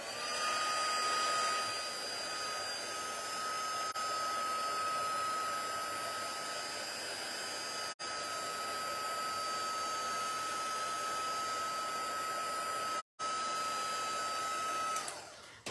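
A heat gun used for embossing blows a steady, airy whoosh with a thin whine on top, running close and unbroken apart from two brief cutoffs, and no one speaks over it.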